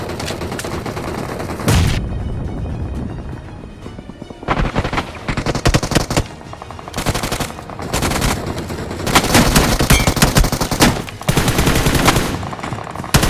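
Bursts of M416 Glacier automatic gunfire in the battle royale game BGMI, loud, close rapid volleys separated by short pauses, with booming impacts and no talking.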